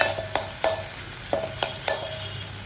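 Chopped onion and tomato stirred in a pan for a dry salted fish dish, a spoon scraping in sharp, irregular clicks over a steady low sizzle, close and alone.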